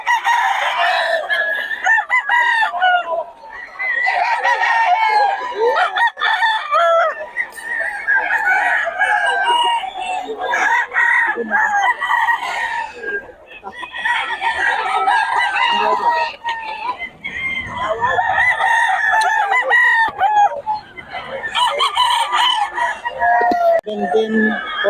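Chickens and roosters at a Bocaue poultry spot crow and cluck loudly and continuously, overlapping calls filling the scene with brief dips, with people talking faintly underneath.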